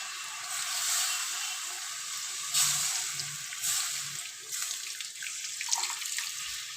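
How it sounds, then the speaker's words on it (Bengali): Water pours steadily into a cooking pot of chicken, a hissing, splashing stream that swells and eases in short surges for several seconds. "মোটামুটি এই পর্যায়ে আমি অ্যাড করে দেবো জল।"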